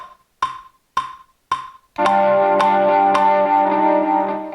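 Three sharp, evenly spaced metronome clicks, then the same steady pulse continues over a sustained droning chord of electric instruments, including ambient guitar, from a backing track.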